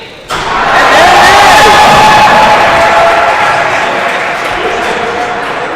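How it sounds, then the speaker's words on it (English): A basketball crowd at an all-star game roars with cheers after a dunk, rising sharply and staying loud and sustained, with scattered shouts and whistles in the dense crowd noise before easing slightly. "The crowd now getting all fired up."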